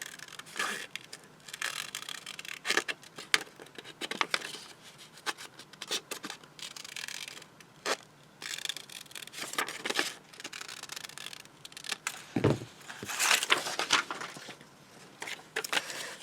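Scissors cutting paper for a scalloped-edge junk journal signature, with irregular close snips and rustling paper scrapes in uneven bursts, no talking.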